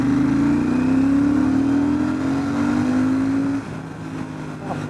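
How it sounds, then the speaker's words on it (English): A Royal Enfield Super Meteor 650 motorcycle accelerates hard in second gear, its engine note rising steadily and loud for several seconds before easing off as the throttle closes. "Let's pull this motorcycle from second gear."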